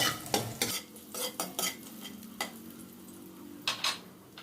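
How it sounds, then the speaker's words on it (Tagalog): Garlic sautés in a hot pan for Batangas lomi, a soft sizzle broken by several sharp scrapes and taps of a utensil against the pan, fairly close and moderately quiet, with no talking. "Pwede na tayo maggisa ng bawang."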